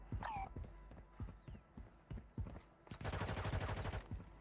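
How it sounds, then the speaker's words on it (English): Gunfire in the mobile shooter Warzone Mobile: scattered sharp cracks, then a dense rapid burst of automatic fire toward the end, fairly distant and thin among other game sounds. "Someone else is shooting at him"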